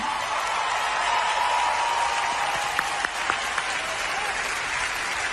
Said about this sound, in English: Please, everyone, give her a big round of applause